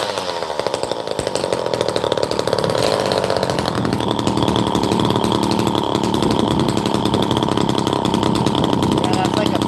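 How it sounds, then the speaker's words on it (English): A loud engine exhaust blares close up with a raspy, buzzing drone much like a leaf blower, revving up at first and then holding steady and harsh throughout. "Look at this exhaust alone, it's like a leaf blower."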